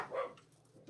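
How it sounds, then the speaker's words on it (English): A dog barks briefly in a garden, a short, fairly faint yap or two heard from some distance, alone without talk. "That'll be little Sherlock having a bit of a barking session at something in the garden, so I apologise."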